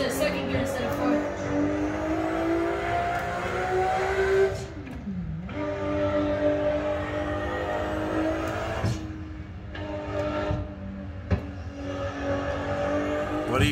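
A 1600 HP Toyota Supra MKIV in a Shutoko street-racing video game, its engine droning and revving loudly and steadily, with one sharp dip and recovery like a shift, while people talk over it.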